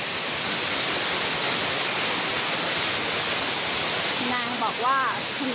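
Mae Kampong waterfall roars as a loud, constant, close wash of falling water, with a voice speaking briefly over it near the end.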